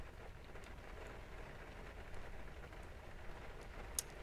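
Rain falls in the X-Plane 11 flight simulator game, a steady, dense hiss of drops with a few faint louder ticks and no voices.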